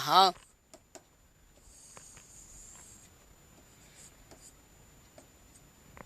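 A pen scratches out an answer by hand in light, intermittent strokes with brief taps between them, faint and close, after a short burst of a voice at the very start.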